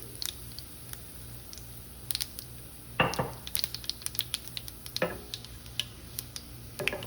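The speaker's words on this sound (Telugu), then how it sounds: "ఇప్పుడు మిరపకాయలు, ఎండు మిరపకాయలు, మిరపకాయలు కూడా ఎర్రగా వేగాలి." Chana dal and dried red chillies fry in oil for pappu charu, giving a soft, steady crackle with scattered sharp ticks and a few brief louder scrapes of stirring.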